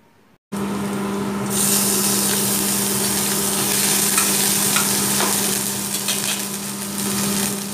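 Banana stem chechki sizzles steadily in a pan while being stirred, a continuous frying hiss with scattered scraping and clinks of the spoon against the pan.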